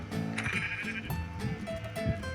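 Minecraft Java Edition sheep bleat repeatedly, several short wavering cries close and clear, with a faint electronic backdrop and no speech.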